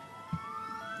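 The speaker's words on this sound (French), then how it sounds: "Il y a les sirènes à côté de moi." Emergency siren wailing continuously close by at a steady moderate level, its tone slowly rising, with a brief low thump partway through.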